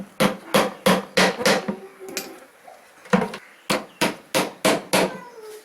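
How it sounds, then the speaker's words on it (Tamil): Hammer driving nails in a row, sharp close metallic strikes in steady runs of four or five blows, a brief pause, then another quick series, loud and isolated without speech. "இந்த லைனாக இருக்கிற ஆணி பூரா கீழே அடித்து இறக்கணும்"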